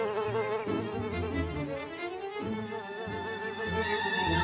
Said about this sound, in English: The fuzzer buzzer loves to fuzz, buzz, buzz.